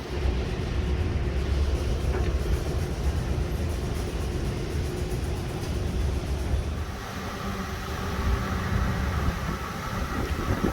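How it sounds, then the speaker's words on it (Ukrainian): A loud, steady rumble of a tram rolling past close by on a windy city street, with rattling and a lower roar that shifts partway through. "Це що, трамвай?"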